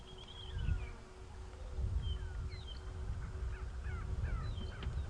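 A go-away-bird calls from bush on a safari drive, nasal descending cries repeated several times at moderate distance over low wind and engine rumble.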